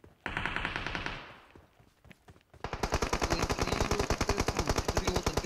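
Rapid automatic gunfire in a multiplayer shooter video game: one burst of fire, a brief lull with scattered sounds, then a long, loud, evenly paced stream of shots close by.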